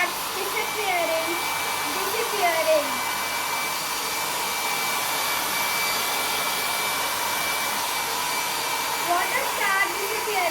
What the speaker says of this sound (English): Add heat energy to a hair dryer.